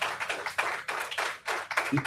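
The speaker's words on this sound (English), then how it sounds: "Big round of applause." Applause from a live audience, clapping in several short bursts with brief dips between them, moderately close and fairly quiet, with no talking over it.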